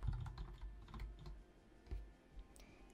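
Close, quiet keystrokes on a computer keyboard as a Rust cargo command is typed, a short run of irregular taps with brief pauses.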